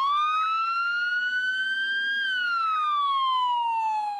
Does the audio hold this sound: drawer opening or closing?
no